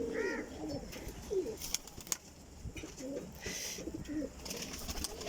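Pigeons on a rooftop coo in repeated soft, throaty phrases, close by, with faint background voices and noise.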